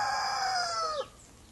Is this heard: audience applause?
no